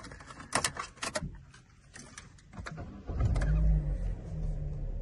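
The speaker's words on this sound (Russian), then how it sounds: "Давайте запустим автомобиль" Opel Astra 2014 started from inside the cabin: clicks and electric whirring at first, then the engine catches about three seconds in and settles into a steady low idle.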